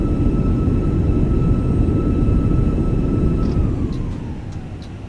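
Thrust reversers on an airliner in Microsoft Flight Simulator 2024 give a loud, steady low roar with a whining tone, the roar easing down and the whine sliding lower toward the end.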